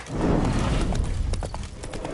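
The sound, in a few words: horse galloping in The Witcher 3 video game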